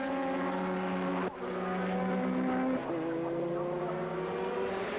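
Lister and Viper GT race cars at full pace in FIA GT racing, a loud sustained engine drone with strong harmonic tones that briefly dips, then resumes as the pitch shifts with a gear change, close and continuous.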